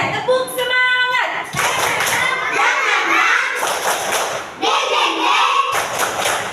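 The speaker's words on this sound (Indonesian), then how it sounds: "Kita tepuk semangat dulu" Classroom of first-grade children doing a rhythmic spirit clap chant, bursts of claps and thumps with chanting voices, loud and close, with a teacher's voice leading.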